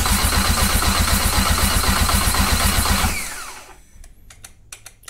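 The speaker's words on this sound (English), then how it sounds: "This is cranking quick, man." A rebuilt engine is cranked quickly by its starter on a strong battery, a loud rapid rhythmic churning that runs for about three seconds, then cuts off into quiet with a few faint clicks.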